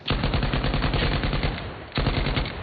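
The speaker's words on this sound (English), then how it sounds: "Just gotta kind of pull the stick back as you're shooting so it counteracts the recoil" A light machine gun fires in a video game, two long bursts of rapid, loud, close shots separated by a brief pause, with no talking over it.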